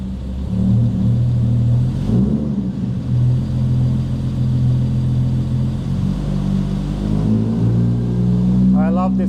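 The engine of a Volvo 164 sedan, found in a Finnish barn, runs with a steady low idle rumble and a slight rise in revs partway through, loud and close, while someone talks over it.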